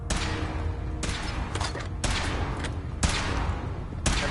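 Heavy weapon shots ring out in Fallout 4 while a suit is being tested, sharp loud blasts roughly once a second, about five in a row, each with a short echoing tail, over a low steady rumble.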